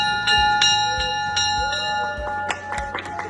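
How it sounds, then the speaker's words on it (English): A bell rung by a breast cancer survivor marking the end of treatment rings out repeatedly in a steady rhythm, each clear strike leaving a bright, lingering tone, with faint voices and clapping around it. "Ringing that bell"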